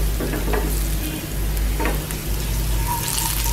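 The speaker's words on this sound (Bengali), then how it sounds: "আমি 1 মিনিট পেঁয়াজ কুচিটা ভেজে শুকনো মরিচটা দিয়ে দিচ্ছি।" Chopped onion and dried red chili sizzle steadily in a hot pan over medium heat, with occasional stirring scrapes and a constant frying hiss close by.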